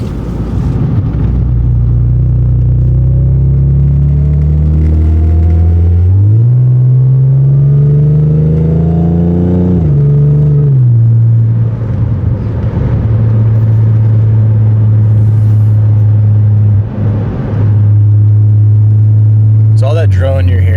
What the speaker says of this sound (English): So all that drone you're hearing when it's really loud is, if it's coming through the mic, is in 6th gear.